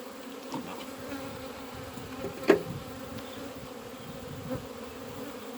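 Honey bees hum around an open hive during a hive split, a steady close droning buzz with one brief louder bee passing near the microphone partway through.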